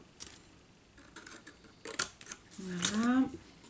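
Scissors snip at an angle through card tabs for a stamping storage box, leaving a few crisp clicks. Someone speaks French quietly over the cutting.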